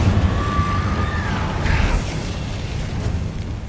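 A fire spell is cast in the Hogwarts Legacy video game: a rising whistle-like tone sweeps up, then a short whooshing burst of flame flares at mid-clip and fades into rumbling background noise.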